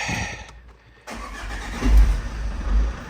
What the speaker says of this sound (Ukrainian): Міняємо його, заводимо машину і перевіряємо.